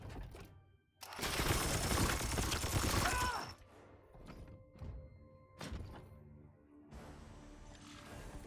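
Heavy gunfire bursts from the Warhammer 40k Chaos Gate video game, a loud dense volley lasting about two seconds followed by several shorter sharp impacts and a final rumbling blast, with no talking.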